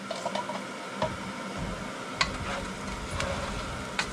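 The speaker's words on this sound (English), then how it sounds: "Stir it, mixing everything together, and you're going to stir this until the rice is translucent as well." Rice stirred in a pot while toasting for pilau, soft scraping and ticking spoon contacts over a low sizzle, close and fairly quiet, no speech.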